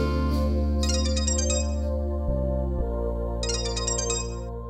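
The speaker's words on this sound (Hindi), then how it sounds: "दी वो स्वीटी का ही फोन है" An incoming call sets a phone ringtone playing, a loud, close electronic melody of sustained tones with bright chiming bursts repeating twice, heard alone with no talking.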